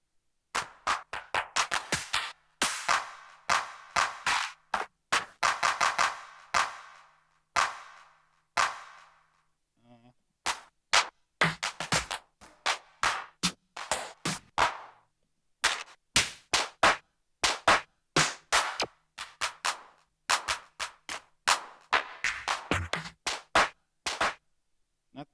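Clap samples auditioned one after another on an Akai MPC One: a long string of short, sharp, dry claps in quick bursts, each hit distinct and close, with brief gaps between runs.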